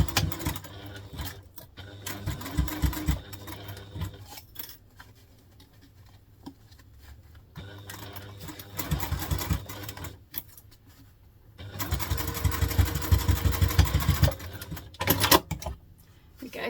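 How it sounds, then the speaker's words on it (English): Sewing machine stitching a short run across three pleats on a contemporary hobo bag, coming in bursts of rapid mechanical whirring with quiet gaps between them and a louder final stretch. "We're just going to do a very small stitch to hold those in place."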